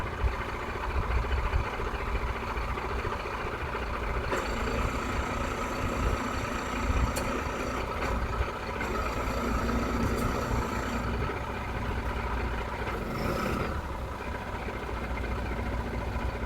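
The engine of a 4WD vehicle stuck in a bog drones on steadily as it tries to drive out, a low continuous rumble with faint higher squeaks and whines coming and going over it.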